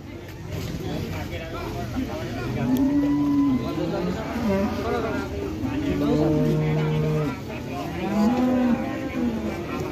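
Fat Simmental beef cattle mooing at a livestock market, several long low moos rising and falling over steady crowd chatter and background bustle.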